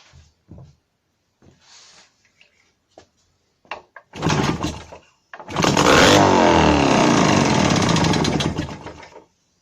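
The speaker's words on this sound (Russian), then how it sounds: "Холодный мотор заводится буквально с первого, со второго клика." A cold Jawa 632 motorcycle engine with CDI ignition is kicked over with a few sharp clicks, then catches and runs loudly and roughly for about three seconds before cutting off.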